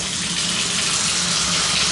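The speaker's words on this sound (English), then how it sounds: "there's the water coming out of the faucet." Water runs steadily from a bathtub faucet, a continuous close rushing hiss with no pauses and no voices.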